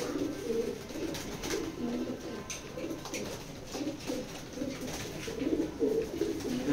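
A pair of racing Maxi pigeons, a male and a female, coo continuously at close range in soft, repeated throaty rolling calls over a low background hum.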